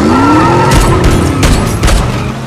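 Movie car chase and shootout: a car engine and tire squeal sweep up under a dense burst of gunfire, several loud sharp shots cracking over the roar.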